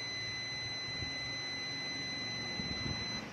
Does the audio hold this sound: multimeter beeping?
yes